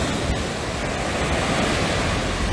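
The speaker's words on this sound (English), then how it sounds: "we wanted you to see this beautiful ocean" Ocean waves wash onto a Barbados beach at Carlisle Bay in the morning, a continuous loud roar of surf with wind noise on the microphone and no voices.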